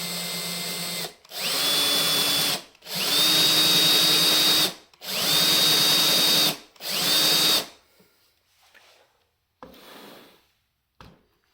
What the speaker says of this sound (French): Je viens percer mon extrémité à l'angle de ma boîte gentiment